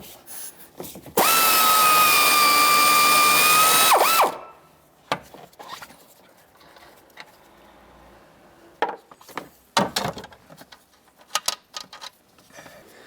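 A power tool with a 15mm socket removes the rear strut mounting nuts on a 2009-2020 Dodge Journey, giving one loud sustained whir of about three seconds, then quieter clicks and clunks of handling parts.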